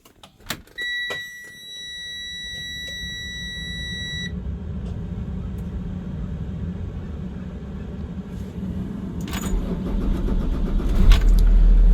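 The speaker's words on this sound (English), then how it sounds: "I guess I'll give you a startup on the bus from hell" A transit bus starts up: a rising electronic beep tone comes first, then the starter cranks and the diesel engine catches into a steady loud idle that swells toward the end, with a few clicks and thumps.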